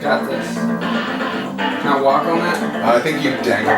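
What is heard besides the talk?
No everyday noise stands out behind the speech.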